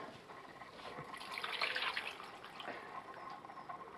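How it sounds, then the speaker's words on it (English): Mushrooms and their dark soaking liquid poured into a pot for a slow-cooker Sichuan chicken, a steady splashing, trickling pour that swells in the middle and tapers off, close and fairly quiet. "now we need to add the mushrooms and the mushroom liquor, all of that here"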